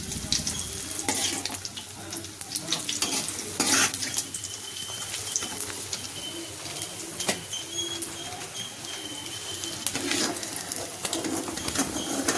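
Egg 65 fries in hot oil in a pan, a steady hissing sizzle with small crackles and pops running evenly throughout at moderate, close volume.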